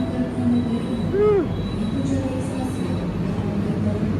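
A train rumbles past on the rails as the Pasundan train is overtaken, a steady low rolling roar with a brief rising and falling wheel squeal near the middle.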